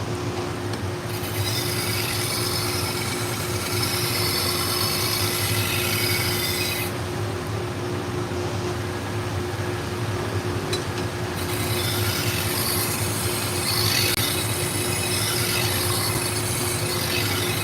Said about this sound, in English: I am going to use the felt belt, and the only reason why I use this felt belt is to get the burr off of it.